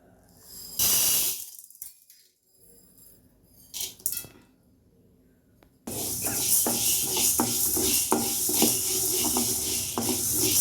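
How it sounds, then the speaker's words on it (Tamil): Lentils dry-roasting in a pan, first a few scattered scrapes and stirs with quiet gaps, then a dense continuous hiss and rattle of stirring that fills the rest, close and fairly loud. "இந்த பயிரை வறுத்துக்கலாம் நல்லா செவக்க வறுத்தா போதும்"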